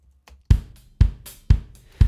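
Computer keyboard arrow keys are pressed while navigating a loop browser, giving four or five crisp, close clicks at an even half-second rhythm over near silence.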